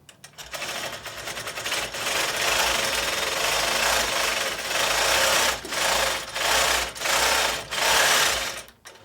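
A sewing machine stitches test circles and up-and-down rows with hot pink bobbin thread and yellow top thread while bobbin tension is checked, running in a steady close whir with several brief pauses between bursts.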